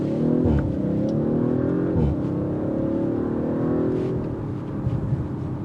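A 2022 Audi RS5 Sportback engine holds a loud, steady drone with a couple of brief rev dips and swells while accelerating, heard from inside the car with no voices.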